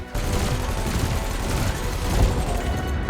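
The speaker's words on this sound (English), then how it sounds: "Your cannon will automatically reload until the ammunition supply runs out. Meanwhile, your laser will fire until the capacitor is depleted" Ship cannon and laser weapons firing in the space combat game Elite Dangerous Odyssey, a dense continuous fusillade of rapid shots and booms running without pause, loud and close, with a brief brighter zap near the end.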